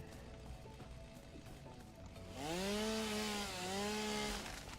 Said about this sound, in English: Yep, that's a chainsaw.